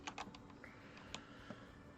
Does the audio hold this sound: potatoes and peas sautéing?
no